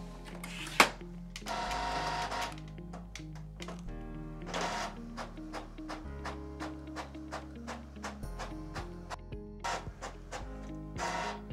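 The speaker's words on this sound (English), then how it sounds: "I'm just gonna print a page of all black ink and see how long that takes" An Epson EcoTank ET-3850 inkjet printer prints an all-black page: a close, rhythmic series of quick mechanical strokes as the print head shuttles, with low motor hum underneath and periodic paper-feed whirs.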